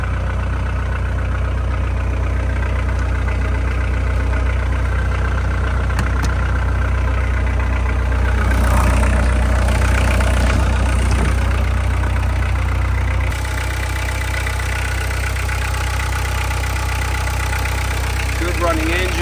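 Diesel engine of a VW Westfalia Joker Syncro TDI camper idling with a steady low drone close by, a brief busier stretch partway through, and speech faintly present over it.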